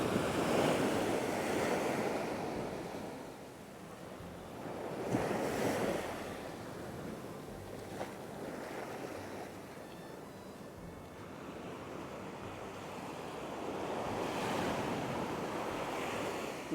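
Ocean waves at Nang Thong Beach in Khao Lak, Thailand, break and wash in repeated surges every few seconds, with steady wind buffeting the microphone and no talking.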